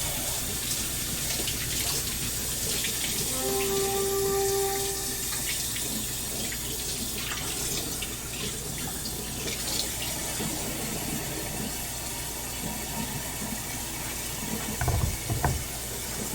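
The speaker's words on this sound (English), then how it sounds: "I got a whole bunch of carrots that I should use up here. I'm gonna give these all a rinse off." Carrots are rinsed under a running kitchen tap, with a steady, continuous splash of water over a sink lasting the whole stretch, fairly close with faint handling knocks near the end.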